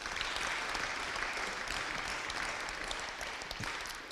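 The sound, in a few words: audience applause at boxing press conference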